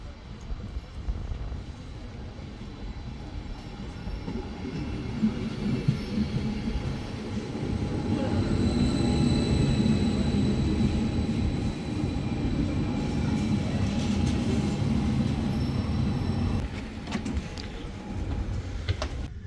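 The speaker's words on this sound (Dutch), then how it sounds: "Deze trein nemen we naar Hannover Hauptbahnhof." A crowded regional express train, the RE60 to Braunschweig through Lower Saxony, rumbles along steadily for the whole stretch, with continuous wheel and carriage noise and a faint high squeal near the end.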